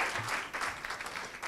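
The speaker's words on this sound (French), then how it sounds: "C'est très sympa de commencer sous des applaudissements" An audience at a motivational keynote talk applauds, a dense burst of clapping filling the short moment without any speech.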